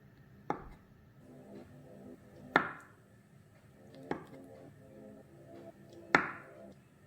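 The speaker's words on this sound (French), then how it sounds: "Je vais couper mon œuf." A knife cuts through a boiled egg for an avocado and shrimp salad, striking the board in four sharp, evenly spaced chops against a quiet background.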